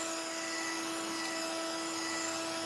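A dryer blowing steadily over wet acrylic paint on a wooden gingerbread village piece, a constant whining motor hum and airy rush, close and unbroken.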